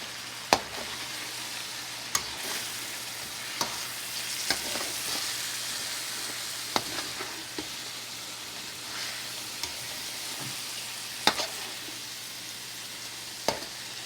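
Chicken thigh curry with fried onion and dry spices frying in a pan, a steady hiss with occasional sharp clinks and scrapes from stirring, close and alone.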